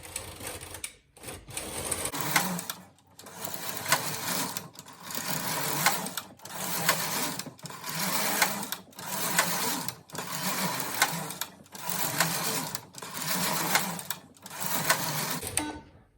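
A domestic knitting machine carriage sweeps across the needle bed row after row, a loud close rattling whoosh repeating in even bursts roughly every second and a half with brief pauses between passes, no talking.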